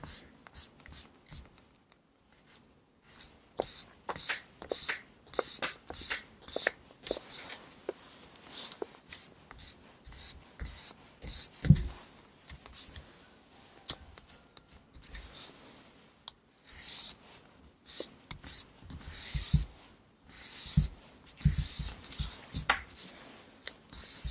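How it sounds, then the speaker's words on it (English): An eraser rubs out blue pencil lines on paper, a faint scratchy scrubbing that comes in repeated short bursts with brief pauses, close and quiet throughout. "So I'm going to erase the blue lines."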